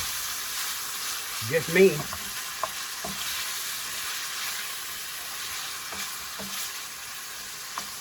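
Garlic frying in a pan gives a steady sizzle that runs throughout, under a brief spoken remark and a few soft clinks of stirring.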